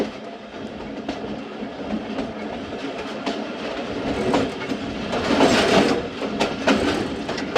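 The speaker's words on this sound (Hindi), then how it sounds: "डुमेल रेलवे स्टेशन से गाड़ी रवाना हो रही है।" A Thal Express passenger train rolls out of Dumel station, wheels clattering on the rails in a steady rumble with rhythmic clicks that swell louder toward the end.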